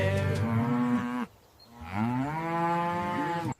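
A cow moos twice, long and loud, with a brief pause between calls, set within a farm-animal nursery rhyme.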